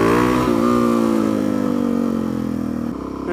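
A Suzuki DRZ400SM motorcycle engine revs loudly up close, its single-cylinder note holding a steady high rev before dropping slightly near the end, with no speech over it.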